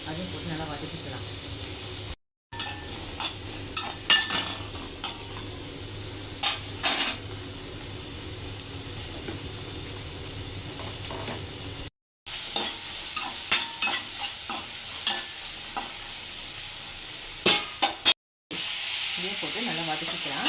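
Onion, ginger and garlic sautéing in a pan with a steady loud sizzle and frying hiss, broken by occasional stirring clinks and scrapes of a spoon, up close, with brief cuts in the sound.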